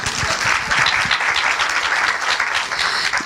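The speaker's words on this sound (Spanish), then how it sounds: "Un aplauso para Pablo." An audience applauds a man named Pablo with steady, dense clapping that stays loud and close throughout, with no voices over it.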